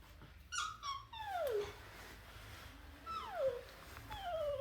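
A child imitates a cat's meow with several drawn-out, falling, whiny calls spaced over a few seconds, close and fairly quiet against a faint background hum.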